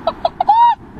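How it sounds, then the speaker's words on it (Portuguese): A hen gives three short, sharp clucks in an even rhythm, then one longer, drawn-out squawk, close and clear over a quiet outdoor background. "A galinha, galinha, galinha, eita galinha"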